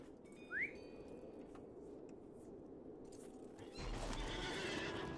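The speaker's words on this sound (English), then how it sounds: "So we have the horse" A horse from the fantasy video game LOTRO gives one short, sharp whinny near the start, then steady clip-clop of hooves continues, growing louder and busier in the final second against a constant ambient game background.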